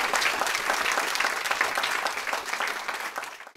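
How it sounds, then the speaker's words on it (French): A small audience at a local handover-of-office gathering in Lafox applauds, with dense, steady clapping at moderate loudness that thins and fades out at the very end. "Je voudrais qu'on l'applaudisse."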